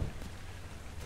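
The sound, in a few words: rain falling in the video game ARK: Survival Evolved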